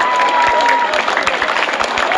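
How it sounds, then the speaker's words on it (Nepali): Audience at a Nepali boarding school program applauding loudly, a dense burst of clapping from a nearby crowd that carries on through the whole moment. "जोरदार तालीले सम्मान गरौँ हाम्रो भाइ तुलसी बस्नेतलाई"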